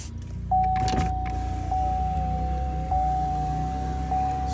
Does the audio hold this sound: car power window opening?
yes